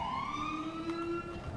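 A video game police siren wails with rising and falling tones over a low engine rumble, moderately loud and fairly close, with no talking.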